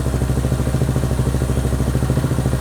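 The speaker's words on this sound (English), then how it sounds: "the motorcycle runs great" Honda Hawk 250 motorcycle engine idling after a rebuild, a close, loud, steady thumpy pulse with a fast even rhythm and faint mechanical clatter, running alone without talk.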